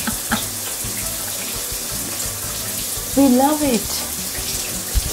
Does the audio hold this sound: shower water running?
yes